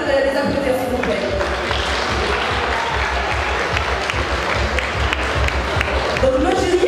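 An audience applauds the contestants at a Miss Ivoire Luxembourg beauty pageant, a loud, continuous wash of clapping that fills the whole stretch, with voices faintly audible at the start and end.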